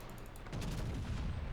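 World of Warships gameplay: a warship's main battery of 16-inch guns fires, a short, muffled rumble of artillery booms rolling underneath at low volume.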